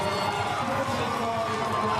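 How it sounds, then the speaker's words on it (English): At a para biathlon race, a crowd keeps up a continuous roar of cheering and encouragement that holds at an even level throughout, while a commentator talks over it. "Tremendous encouragement from the crowd."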